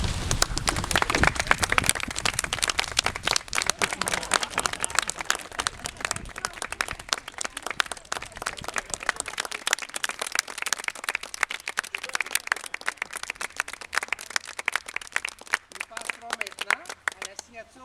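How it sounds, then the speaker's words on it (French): Wedding guests at a civil ceremony applaud the newly married couple, a dense, sustained burst of clapping that fades gradually, with talk mixed in. "je vous demanderai de vous lever et de les applaudir très chaleureusement"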